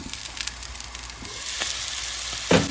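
Chicken liver pepper fry sizzles steadily in a pan, a close continuous crackle with a sharper clatter near the end.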